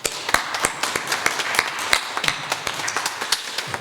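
A congregation at a Sunday church worship service applauds during the greeting: a steady run of many overlapping hand claps, fairly close and moderately loud, with no talking over it.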